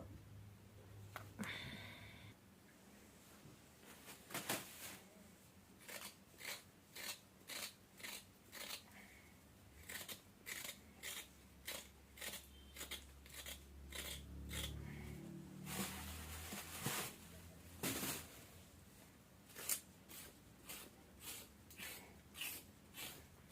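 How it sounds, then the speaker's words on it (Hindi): Carrots for pickle are scraped with a peeler in quick, rhythmic strokes, a series of close, soft rasping swipes repeating steadily at low volume. "इस तरीके से हल्की हल्की सी गाजर छील ले रही हूँ"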